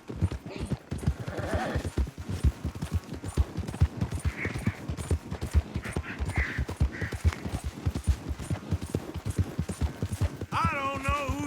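Horses galloping in a race in the video game Red Dead Redemption 2, rapid drumming hoofbeats close by, with a brief whinny and light rattle near the end and occasional voices mixed in.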